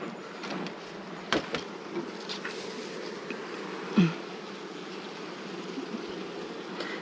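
Honeybees at an open hive hum in a steady, moderate drone throughout, with a few brief knocks and one louder thump near the middle as frames are handled.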